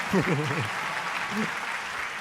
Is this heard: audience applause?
yes